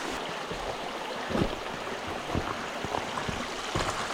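Steady rushing stream water flows over rocks on an off-road trail ridden on a KTM 300 EXC TBI dirt bike, a continuous broad wash with occasional splashes and knocks.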